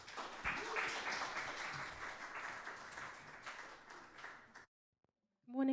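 A Sunday church audience applauds as the band is welcomed up, a loud wash of clapping that slowly thins out and stops after about four and a half seconds. A brief silence follows, then a voice starts speaking.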